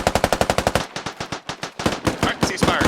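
A squad at training fires machine guns in fast, evenly spaced bursts of loud, sharp reports, with a short break between strings before the firing picks up again.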